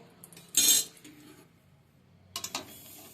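Roasted sesame seeds for til naru, a Bengali sweet, are tipped out of a hot pan onto a plate, making a short bright rattling clatter, a quiet gap, then a second shorter burst of pouring.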